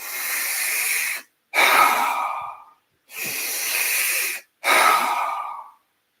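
Two full rounds of a funnel breathing exercise, each a long, steady breathy inhale followed by a loose, passive exhale that trails off, close and clear with short silent gaps between breaths.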